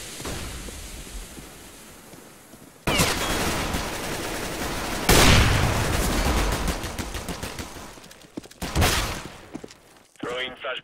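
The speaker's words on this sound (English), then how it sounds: "Throw in the flashbang! I'm throwing the flashbang." Gunfire and a flashbang in the shooter CS:GO during a competitive match on the Cache map, with quiet ambience giving way to loud bursts and blasts, and players calling out over the noise.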